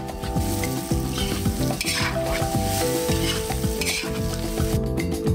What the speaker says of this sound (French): On l'ouvre, on ajoute l'assaisonnement pour patates et on mélange.